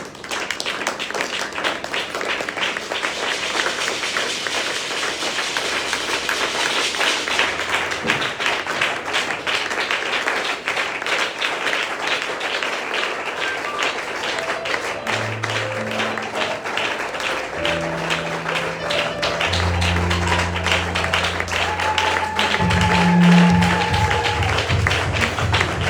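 A church congregation applauds steadily with dense, continuous clapping that holds through the clip, while sustained musical tones from the service rise underneath toward the end.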